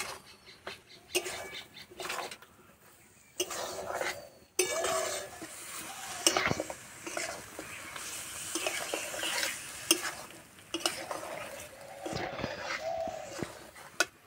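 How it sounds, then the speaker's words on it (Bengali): Ridge gourd sizzles and fries in a pan while being stirred, with steady crackling and scraping stir strokes over about fourteen seconds and occasional light clinks, no talking. "ঝিঙে এইভাবে কিছুক্ষণ নেড়ে ভেজে নেব"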